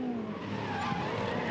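A Supercars race car skids with squealing tyres past Skyline at Bathurst, a loud continuous engine roar and tyre scrub close by.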